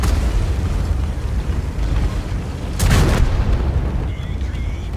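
A tank's autoloading gun fires in World of Tanks, one loud booming blast that stands out midway through a constant roar of engine and battle noise.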